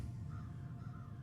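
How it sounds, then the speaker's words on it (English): Crows cawing in a tabletop fantasy adventure setting, two soft, drawn-out calls heard faintly over a steady low rumbling ambience, with no one talking. "The only animals you see around you are crows."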